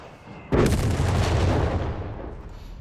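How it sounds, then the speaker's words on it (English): An artillery barrage in Company of Heroes 3 lands with a sudden heavy boom, followed by a dense rumbling roll of overlapping blasts that slowly fades over a couple of seconds. "Also got the rapid artillery barrage"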